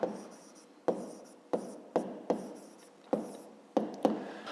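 A pen or pencil scratches out a maths problem in short, crisp strokes, about eight quick taps and scrapes coming in an uneven rhythm, close and fairly quiet, with no talking.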